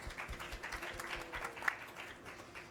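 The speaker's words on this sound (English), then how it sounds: "Let's give a final round of applause for our panelists." Audience applause at the close of a panel event on U.S. climate targets, a steady moderate spread of many hands clapping at some distance for a few seconds.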